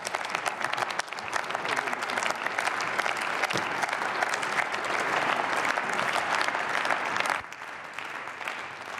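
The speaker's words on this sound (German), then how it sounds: "Erneut viel Applaus für Guido Westerwelle, den scheidenden Bundesaußenminister." Sustained, dense applause fills a parliamentary chamber, the Bundestag, for departing German foreign minister Guido Westerwelle, loud and continuous before easing slightly near the end.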